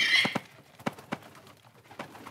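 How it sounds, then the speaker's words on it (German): Hungry, aggressive pigeons in the Randal's Monday video game coo and flutter near the listener in a series of soft irregular pulses and muffled thumps, with a brief high chirp at the start. "diese Tauben sind sehr hungrig und aggressiv"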